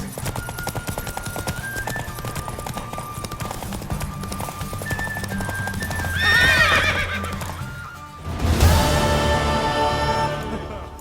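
A horse in The Witcher 3 neighs in a loud, shrill whinny, while hooves clip-clop underneath against game music, and a second, louder neigh follows.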